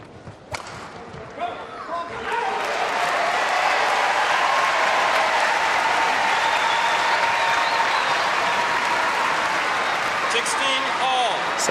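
Crowd at a Commonwealth Games badminton mixed doubles match bursts into loud sustained applause and cheering after a few seconds of scattered claps, filling the hall steadily under a commentator's voice.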